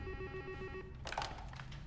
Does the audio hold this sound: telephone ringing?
yes